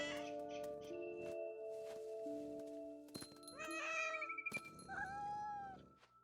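A cat meows inside the video game What Remains of Edith Finch, with a couple of drawn-out, wavering cries toward the end over quiet ambient game tones.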